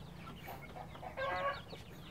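A Bangkok chicken clucks softly during feather trimming, with a louder burst of clucking partway through, close by and without any talking.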